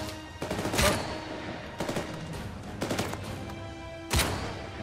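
Sniper rifle gunfire in the Uncharted 4 video game: four sharp, loud shots spaced roughly a second apart, each with a brief ringing tail over a steady game ambience.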